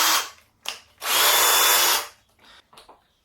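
A cordless drill spins on speed setting 2. It starts with a short whir, then a loud sustained run of about a second, followed by a few brief trigger bursts that fade out.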